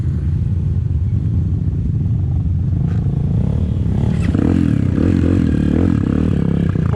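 A trail motorcycle rides over a rocky path in Pampanga, its engine rumbling loudly and steadily throughout, with clattering and scraping from stones under the wheels and a brief rise in revs toward the end.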